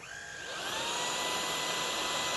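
A Riccar R65 cordless stick vacuum switches on and spins up, its motor rising to a steady high whine with a constant airy rush, close and alone.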